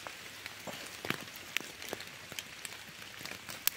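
Light autumn rain falls in woods during mushroom picking, scattered faint drops tapping irregularly on leaves over a quiet background hiss.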